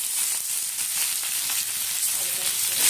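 Whole spices crackle and sizzle in hot oil as the tempering for Bengali shukto cooks, a steady, close, dense frying hiss with no one talking.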